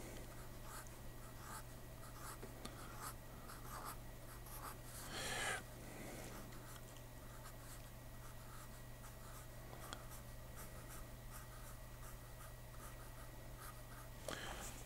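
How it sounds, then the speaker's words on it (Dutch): A pen draws lines on paper to sketch a zipper, making a steady scratchy rasp throughout with brief stronger strokes, close and alone over a low constant hum. "En dus trekken we ook nog een lijn, zo."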